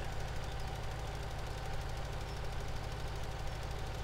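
A big tractor engine in Farming Simulator 17, set in northern Alberta while seeding barley, runs at a steady heavy idle with a low, even knocking rumble and a buzzing vibration, alone and constant.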